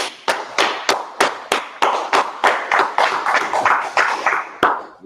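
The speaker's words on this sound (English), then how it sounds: "Let's go ahead and clap it up." Rhythmic group clapping at a Thursday night scripture gathering, about fourteen sharp, evenly spaced claps with a slight ringing tail, close and loud, then a brief pause before one last clap.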